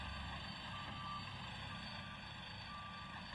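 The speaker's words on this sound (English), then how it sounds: "These are called 100-ton dump trucks, Max." Reversing beeps from a 100-ton dump truck with a long rectangular dump box, a steady repeating warning tone heard faintly over a continuous low engine rumble, with no voices.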